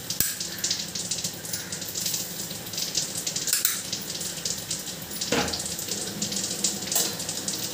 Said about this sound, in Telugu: హాయ్ హలో ఇదిగోండి నేనైతే జంతికలు వేస్తున్నాను చూడండి